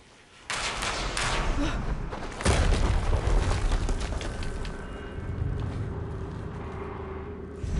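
Loud booming explosions in Horizon Zero Dawn Remastered gameplay, a sharp blast near the start and a heavier one midway, each followed by a long rumbling, crackling tail with no talk.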